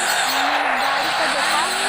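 A car driven in a shooter video game, with a continuous engine drone whose pitch slides up and down as it accelerates, loud and steady.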